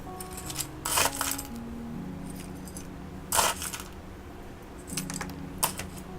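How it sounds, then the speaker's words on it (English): Gravel poured around a newly planted Opuntia microdasys albata cactus, with a few short rattling bursts of small stones separated by quiet pauses, fairly close. "Pardon the gravel noise again."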